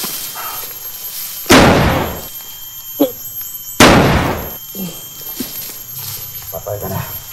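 Two sharp, loud gunshots crack about two seconds apart, each followed by a fading echo, with quieter knocks and thuds around them.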